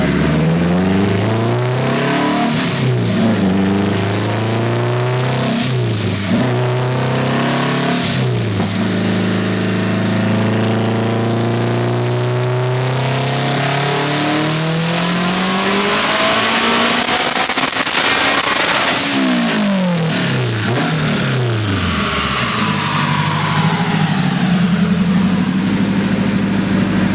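A turbocharged car on a dyno burning E85 fuel roars loudly and steadily, climbing through the revs in a long sustained pull. A high turbo whine rises and then cuts off sharply, after which the engine drops back to a rumbling idle.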